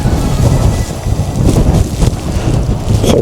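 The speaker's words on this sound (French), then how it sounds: "comme il y a de temps en temps une rafale" A strong gust of wind buffets the microphone on a high lookout above wide farmland near Cullera, Spain, roaring loud and steady throughout with a few sharper surges.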